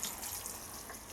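Watering can giving slightly dry compost a light sprinkle, a soft, steady patter and trickle of water heard briefly and close, fairly quiet, with no talk.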